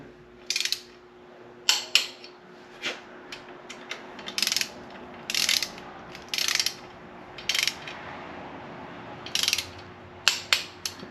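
A hand ratchet tightens bolts on a 383 engine, giving repeated short bursts of sharp, close clicking with brief pauses between strokes and no talk.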